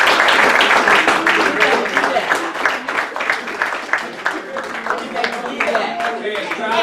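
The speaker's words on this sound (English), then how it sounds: "Let's give them a round of applause just for that" Round of applause for graduating seniors, CSAC champions, at a men's college soccer banquet, steady crowd clapping from a roomful of people that gradually thins out, with some voices underneath.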